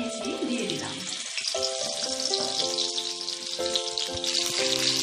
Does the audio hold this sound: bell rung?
no